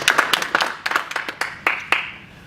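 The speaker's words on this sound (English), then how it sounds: "Give me a round of applause." A small audience at a hypnosis workshop applauds a volunteer with a short burst of separate, close and sharp hand claps that thin out and fade toward the end.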